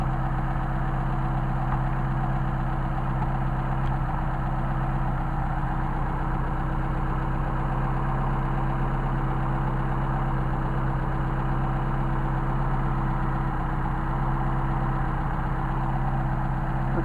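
A Mercedes 190SL engine fitted with Solex carburettors idles at a constant, even rumble for the whole stretch, loud and close with no change in pace.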